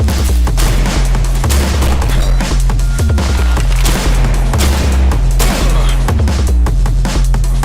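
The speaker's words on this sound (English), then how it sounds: "I'm hearing an explosion" Explosions and heavy gunfire in a PC war video game, a dense, loud and continuous barrage of booms and rapid shots layered over a pounding low rumble throughout.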